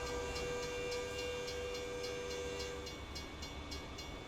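A train rolls along in American Truck Simulator, heard as a quiet, steady rail rumble with sustained horn-like tones and faint rhythmic clicks, no voices.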